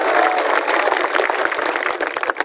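A crowd claps at an outdoor Congress election rally in Azamnagar, a steady loud wash of applause that thins slightly toward the end.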